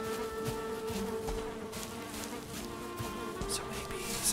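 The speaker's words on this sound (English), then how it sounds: "So many bees." Swarm of bees buzzing in the video game Valheim, a steady droning hum that continues throughout, close and even in level with no talk.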